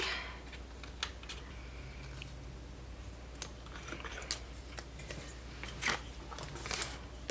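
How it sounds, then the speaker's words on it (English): Small scissors trimming paper stickers, a scattering of quiet snips and clicks at irregular intervals over a low steady hum, close but faint. "then we have the mask, which I will use my smaller scissors for"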